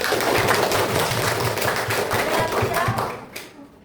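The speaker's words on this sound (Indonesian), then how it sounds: "Tepuk tangan dulu" Classroom applause from a history class, group hand-clapping that runs steadily for about three seconds and then tapers off at the end, with voices mixed in underneath.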